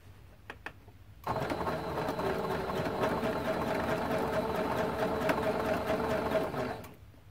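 A sewing machine stitches T-shirt quilt blocks together in one long steady run, loud and close, starting abruptly after a brief pause and stopping near the end.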